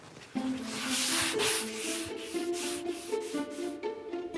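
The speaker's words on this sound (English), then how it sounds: "continues his sanding marathon" Steady abrasive rasping of sandpaper on wood, close and continuous, with rhythmic back-and-forth strokes repeating about every half second.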